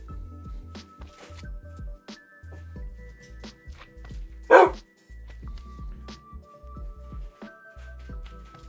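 A dog's bark played from a soundboard button, a single short loud burst in the middle, amid background chatter and game noise.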